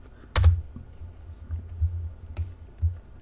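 Several distinct keystrokes tap on a computer keyboard at close range, with one sharp initial press followed by a few softer, irregularly spaced clicks in a quiet room.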